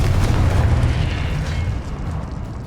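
A heavy, rumbling fiery blast from the Confringo spell in Hogwarts Legacy, loud and sustained with deep booming low end that slowly tails off.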